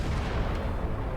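A cannon fires in the video game Return to Monkey Island, a loud, dense booming blast that fills the whole moment with rumbling noise and no pause.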